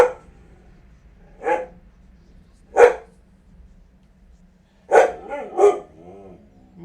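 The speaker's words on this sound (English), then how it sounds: "with your barks being so loud, it is going to hurt people's eardrums" A dog barks in single loud, close bursts spaced a second or two apart, then a quicker pair with a short whine between, over a quiet room hum.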